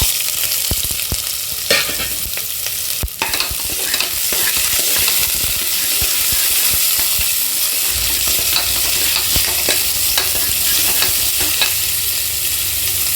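Mustard seeds, chana dal, urad dal and onion fry in hot oil for a bottle gourd mash, making a loud, dense, continuous sizzle close by. Occasional stirring scrapes and sharp crackles rise above it, with no speech.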